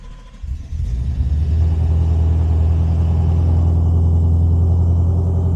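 A Ford Mustang GT V8, fresh from an oil pump gear and GT350 sump swap, cranks and fires, then settles into a loud, steady, deep rumbling idle up close with no one speaking.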